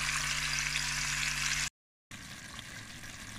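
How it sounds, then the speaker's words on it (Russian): Pork neck pieces sizzling and frying in a pan while being browned on both sides, a steady loud hiss with a brief silent break before the sizzle resumes. "И теперь буду обжаривать мясо с двух сторон."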